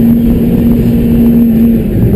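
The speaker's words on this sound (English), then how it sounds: "Go ahead and let it hit the rev limiter" A car engine held against its rev limiter on an autocross course makes a loud, unbroken, steady drone at a fixed pitch, close up and alone for the whole moment.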